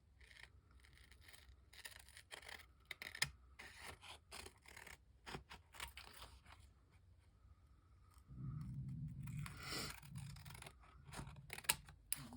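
Scissors snip through paper for a card project, producing quiet, close, irregular cuts and rustles, with a denser, louder stretch of cutting and handling near the end, no speech.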